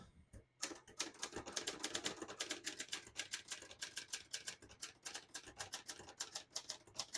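Rapid keystrokes clatter on a 1967 Hermes 3000 portable typewriter, a close, steady run of crisp mechanical strikes after a brief pause at the start, with no talking.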